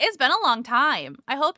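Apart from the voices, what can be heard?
No distinct noise like a dog, phone or traffic.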